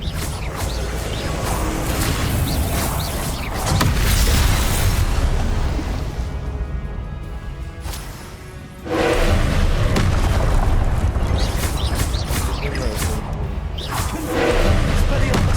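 Expelliarmus spells are cast repeatedly in the game Hogwarts Legacy, producing booming impacts and whooshing bursts at close range, with a quieter stretch in the middle and a voice talking over the effects.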